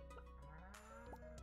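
Sheep bleating in the Stardew Valley farming game, a short wavering game sound effect with harmonic bleats that rise and fall over the game's background music.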